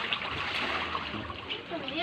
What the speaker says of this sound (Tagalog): tinatapon ng tubig